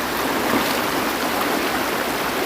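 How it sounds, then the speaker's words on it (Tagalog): Water of a small river rushes and churns in a constant, dense wash. It is close and fairly loud, with no voices heard. "ang ilog na to, simple lang to, parang maliit lang to mga kaibigan"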